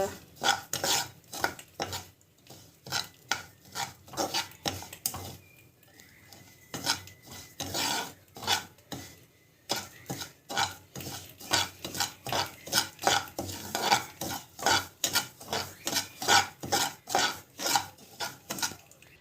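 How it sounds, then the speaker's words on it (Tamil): Semolina dry roasting in a pan, stirred with a utensil in a steady run of scraping, rasping strokes, close and fairly quiet, with a brief lull midway. "ரவை போட்டு நல்லா வந்து வறுத்துக்கணும்."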